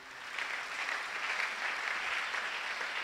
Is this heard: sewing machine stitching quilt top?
no